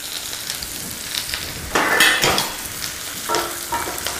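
Arugula wilts and is tossed in a hot pan, giving a steady sizzle. Louder clatter and stirring bursts come from the pan partway through, close up and with no talking.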